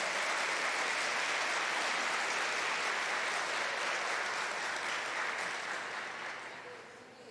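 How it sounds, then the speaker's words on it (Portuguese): A church congregation bursts into thick, even applause during a worship service. The sound holds strong for several seconds, then tapers and softens toward the end. "Dá uma salva de palmas para Jesus."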